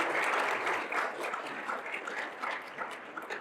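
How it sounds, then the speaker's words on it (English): An audience at a general session gives teachers and staff a big round of applause, a thick, sustained clatter of many hands that stays fairly even and fades slightly toward the end, with no clear talking. "So big round of applause for all of you."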